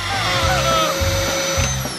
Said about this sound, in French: Ouais, un aspirateur!